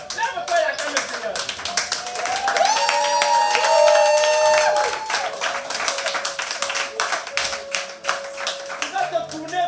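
Church congregation clapping rhythmically in praise to the Lord, sharp hand claps in rapid succession with a sustained sung or shouted voice rising over them mid-clip, loud and lively.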